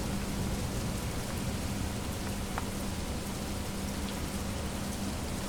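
Rain plays as a sound effect for the dungeon crawler board game HeroQuest, a steady, dense hiss of rainfall with a faint low hum that carries on without pause.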